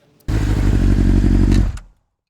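A Honda Goldwing 50th Anniversary's flat-six engine pulls away in one loud, close burst of throbbing exhaust lasting under two seconds, cutting off abruptly into silence.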